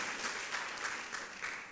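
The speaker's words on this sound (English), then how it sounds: "Clap for God." A church congregation clapping together, a steady patter of applause heard at a modest distance with no voices over it.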